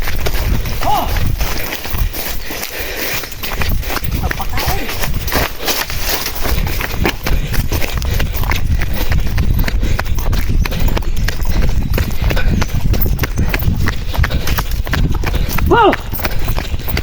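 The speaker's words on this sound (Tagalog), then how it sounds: "Bilis ng kalabaw." A carabao, or water buffalo, runs off pulling a cart loaded with coconuts, its hooves beating a rapid clip-clop, mixed with rattling and general outdoor noise while people talk over it.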